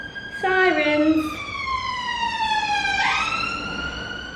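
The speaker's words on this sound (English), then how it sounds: "sirens." Emergency sirens wail with rising and falling tones, loud and close, sweeping up and down over a few seconds.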